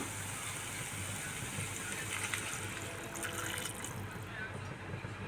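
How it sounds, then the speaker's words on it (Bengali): Hot water is poured into a simmering squash and potato curry, giving a steady gushing, splashing pour against a continuous background hiss at fairly low volume. "এবার এই পর্যায়ে এসে আমি এখানে তার মধ্যে একটু গরম জল দিয়ে দিচ্ছি ঝোলের জন্য"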